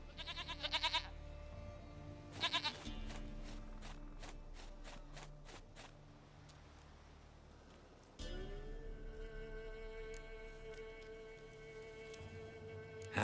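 A goat in The Witcher 3: Wild Hunt on PS5 bleats in short, loud, wavering calls, one at the very start and another at about two and a half seconds, over game music and footsteps.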